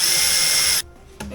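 A power drill bores a hole during controller installation on a Husqvarna E5.5. A loud, close, steady whine cuts off abruptly, then a brief restart follows.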